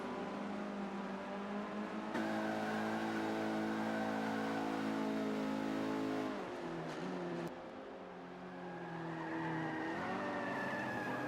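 Race cars in Forza 5 scream past at high revs with sustained tire squeal and skidding, engine pitch shifting as they brake and accelerate through a turn, loud and continuous with no voices.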